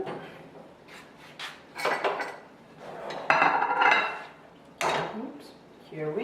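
Fettuccine and salmon sauce stirred in a pan, close clinks and scrapes of a utensil against metal in irregular bursts, with louder clattering passages and a voice talking at times.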